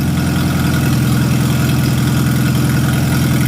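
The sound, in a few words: Farmall tractor engine running with a slight timing skip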